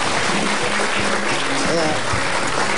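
A studio audience at a television talk show breaks into applause, a short burst of dense clapping with speech mixed in over it.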